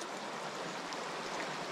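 River flowing in the Alps beside the Großglockner high alpine road, a steady close rushing of water with broad hiss, continuous and fairly loud with no talk.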